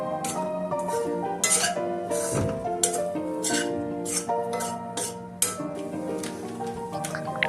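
Okra coated in besan is stir-fried with a little oil in a pan, with occasional spatula scrapes and light clinks against the metal, close but fairly soft and unhurried.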